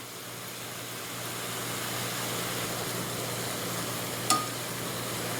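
Pork bulgogi stir-frying in a pan over fairly high heat, a steady soft sizzle with a single brief clink partway through.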